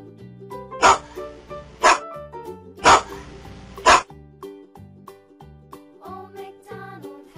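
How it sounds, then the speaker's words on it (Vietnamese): A dog barks four times in sharp, evenly spaced single barks, close and loud, over a soft musical background. "Con chó"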